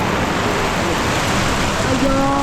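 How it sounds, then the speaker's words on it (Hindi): Steady rain drumming on a roof overhead during a mountain trip stay in Jibhi, a dense continuous hiss filling the whole stretch, with faint tonal sounds near the end. "आवाज़ सुन रहे हो ऊपर बारिश की।"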